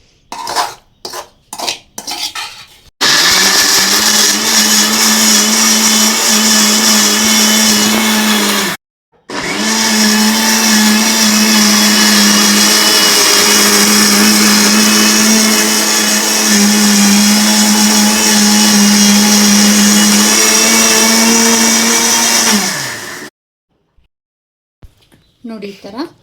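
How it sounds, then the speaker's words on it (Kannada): A kitchen mixer grinder coarsely grinds cooled roasted masala for kushka rice, a loud steady whirring drone running about twenty seconds after a few clattering knocks, with one brief pause partway through. "ಈಗ ಇದು ಆರಿದ ಮಸಾಲೆ ಎಲ್ಲ ಮಿಕ್ಸಿಗೆ ಹಾಕೋತಾ ಇದ್ದೀನಿ. ಈಗ ಇದನ್ನು ತೆರೆಯಾಗಿ ರುಬ್ಕೋಬೇಕು"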